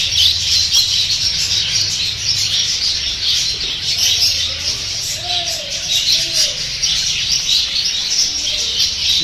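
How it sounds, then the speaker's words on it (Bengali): Caged birds at a bird shop in a Magura market in Bangladesh keep up a dense mix of chirps, squawks and cooing, with faint background voices. "পাখির কলরব"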